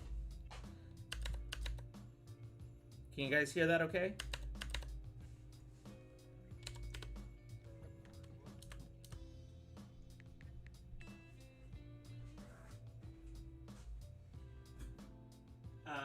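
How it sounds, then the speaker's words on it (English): Keyboard typing test on a computer keyboard in a cozy bedroom setup: steady rapid clicking and clacking of keys runs throughout at moderate level, with a brief louder burst and a short spoken question early on. "we will do a keyboard sound test"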